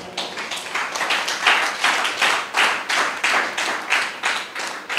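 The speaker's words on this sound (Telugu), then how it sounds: "చప్పట్లు కొట్టండి" Congregation at a Sunday church service clapping in unison, a regular rhythmic beat of about two claps per second, loud and sustained, rising and falling in waves.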